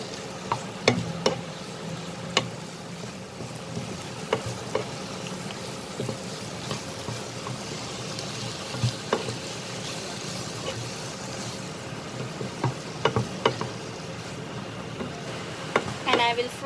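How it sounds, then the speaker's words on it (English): Mushroom and capsicum, salted and cooked with ginger garlic, are stirred and fried in a pan: a steady low sizzle broken by repeated spoon scrapes and clicks against the pan at an even, moderate distance. "And I'll mix everything."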